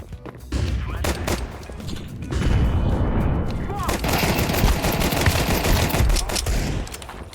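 Rapid bursts of Counter-Strike 2 gunfire crackle and rattle almost without pause, loud and dense, with overlapping shots throughout.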